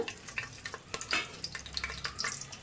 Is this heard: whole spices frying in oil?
yes